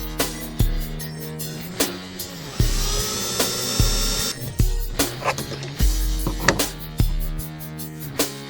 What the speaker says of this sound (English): until I drill that out and put a new screw in